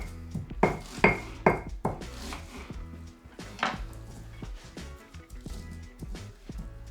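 Salt and black pepper for guacamole being ground in a hard bowl, giving clattering knocks and scraping crunches up close, loud at first and then settling into softer grinding.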